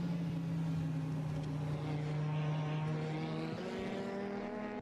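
A small race car engine in the RaceRoom Experience racing game drones steadily at a low, throaty pitch, holding a constant rev for several seconds without letting up.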